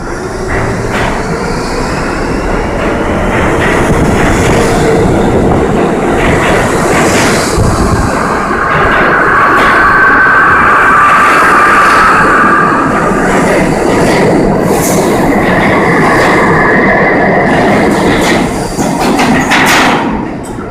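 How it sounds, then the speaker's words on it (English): An R68 subway train rolls past loudly, its propulsion motors letting out a rising, sustained tonal howl over the rumble of the wheels and rhythmic clickety-clack of rail joints. "when you hear an R68 howl"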